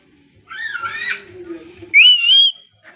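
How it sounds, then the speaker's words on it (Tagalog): A person whistles two short melodic phrases outdoors, clear and close with a brief pause between them, and a faint low voice-like tone under the first phrase. "sumipol ka muna"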